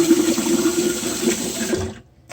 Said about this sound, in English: you want to run a little bit of hot water into your mason jar or whatever you're fermenting it in